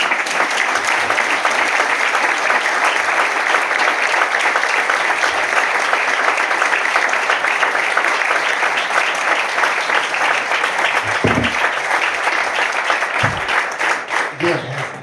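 An audience gives a long, sustained ovation at a bullfighting association's tribute to its founder, dense steady clapping that carries on for the whole stretch and begins to thin near the end.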